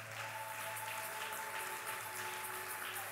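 Church congregation applauding at a French-language Sunday worship service, a steady wash of clapping held at even strength for about three seconds, with faint sustained tones underneath.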